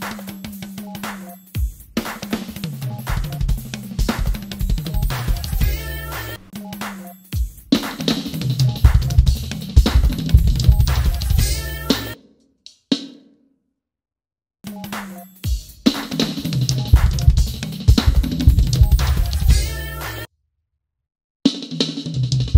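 A fast, intricate drum chop played on a drum kit: dense bursts of rapid snare, tom and kick strokes with cymbal crashes, played loud and close in several phrases separated by short silences.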